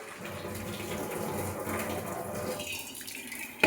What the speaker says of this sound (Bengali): আর পাস্তাটা থেকে জলটা ঝরিয়ে নিই।